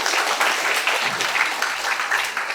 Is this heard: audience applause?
yes